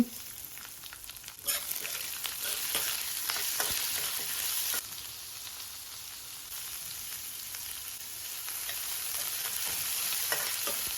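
Peanuts, thinly sliced onion and curry leaves frying in a pan for flattened rice upma. A soft continuous sizzle runs throughout, with spoon scrapes and a louder burst of stirring partway through, heard close up.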